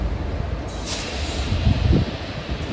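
The Tirupati–Rameswaram Express at Vellore station rumbles past with a steady, loud rolling clatter of wheels on rails, rising slightly toward the end, with no voices.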